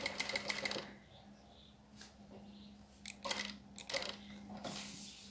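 A sewing machine sews a diagonal stitch at the binding corner of a plastic pouch, heard as a few short, faint bursts of whirring separated by quiet pauses and light handling sounds.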